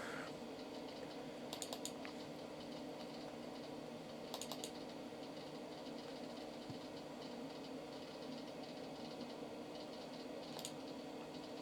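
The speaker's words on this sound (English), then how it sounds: "Oh, I didn't even test out the keyboard" Keys on the keyboard of a restored Commodore 386SX-16 computer are tapped in a few sparse clusters of sharp clicks, over a steady machine hum and whir.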